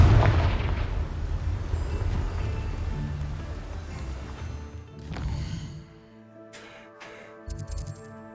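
A Confringo fire spell from Hogwarts Legacy on PS5 blasts with a loud, rumbling burst that fades over several seconds, followed by quieter crackling and scattered effect sounds near the end.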